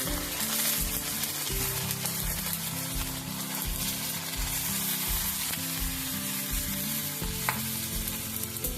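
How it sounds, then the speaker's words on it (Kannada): Cinnamon and cloves fry in hot oil in a pan for a festival holige saaru, with a loud, steady sizzle and the rhythmic scrape of stirring throughout. "ಚಕ್ಕೆ, ಲವಂಗ, ಮೊದಲು ಹಾಕೊಂಡ್ರೆ ಎಲ್ಲ ಕ್ಲೀನ್ ಇರ್ತಾರೆ."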